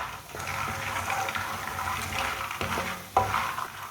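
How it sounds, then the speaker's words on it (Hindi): Whole fox nuts (makhana) roast in a pan on a low flame while a spoon stirs them, giving a steady, close rustle and scrape with a few sharper knocks near the end. "फुल मखानों को चम्मच चलाते हुए पकाना है"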